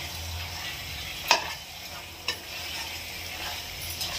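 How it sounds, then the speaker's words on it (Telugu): Green chillies fry in hot oil in a pan for a chicken curry, giving a steady close sizzle with a few sharp stirring clicks and scrapes. "పచ్చిమిరపకాయలు వేగుతున్నాయి కాబట్టి."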